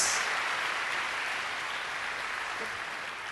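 A church congregation claps steadily and enthusiastically, a dense wash of applause that fades slightly over a few seconds.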